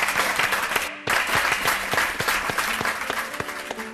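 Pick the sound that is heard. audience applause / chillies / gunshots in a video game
audience applause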